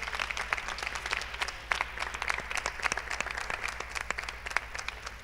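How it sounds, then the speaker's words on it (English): Audience applause at a BE Festival 2018 feedback cafe session, a dense, steady round of clapping that carries on through the whole stretch. "A round of applause for Aldes."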